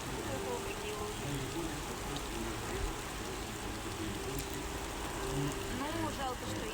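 Heavy rain pours during a thunderstorm on Vosstaniya Square in St Petersburg, a constant dense hiss of drops on flooded pavement and puddles, steady and moderately loud with no talk.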